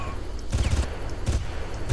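Gunfire in the shooter game Far Cry, two heavy bursts of rapid close shots with booming low thumps, separated by a brief lull.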